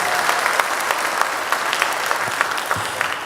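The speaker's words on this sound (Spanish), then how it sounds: "dale un aplauso al Rey de Reyes" A church congregation claps for Jesus during a sermon, a sustained, even wash of many hands clapping that fills the room with no voice on top.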